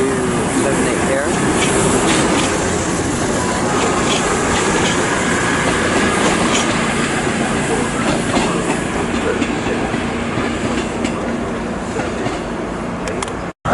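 Diesel High Speed Train 43065 with power car 135 on the rear departs Bristol Temple Meads for London Paddington, a loud, steady rumble of engines and rolling stock close by throughout.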